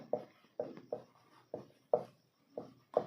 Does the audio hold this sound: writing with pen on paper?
yes